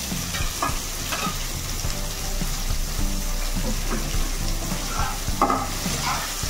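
Chopped onion and green chilli frying in oil for paneer masala fry, a steady close sizzle broken by rhythmic stirring scrapes and spatula knocks, with no talking.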